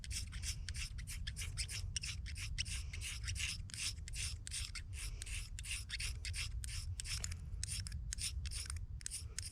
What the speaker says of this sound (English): We're going to use the magnesium bar or rod with a scraper on top of all of the fat wood